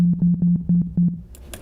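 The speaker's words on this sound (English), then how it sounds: "So if I just play a sine wave" A pure sine test tone played through studio speakers, sounding as about six short, evenly spaced steady beeps before it cuts off into faint background noise.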